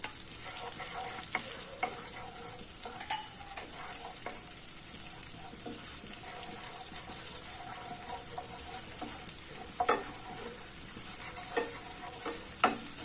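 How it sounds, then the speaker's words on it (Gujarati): Ginger, chili and garlic paste sizzles steadily in melted butter, a continuous bright frying hiss broken by scattered clicks and scrapes of stirring, close by with no talk. "બટર પીગળી જાય એટલે આપણે તેમાં આદુ મરચાં અને લસણની પેસ્ટ ઉમેરી દઈશું"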